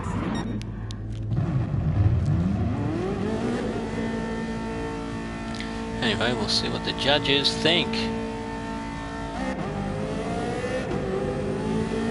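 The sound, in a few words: Ferrari F40 engine revving in a racing video game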